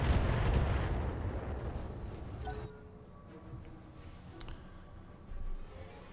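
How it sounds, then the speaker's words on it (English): Rockets from a mech in Battletech fire and explode in a loud rumbling burst that tails off, followed by fainter scattered impacts and a final low thump. "Send some rockets over there."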